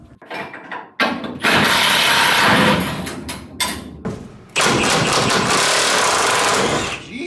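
Milwaukee impact wrench removing a bolt during front-end work on a 1967 Ford F100 with a Crown Vic front end, heard as loud, close hammering bursts with clunks and thuds between them, and no talk.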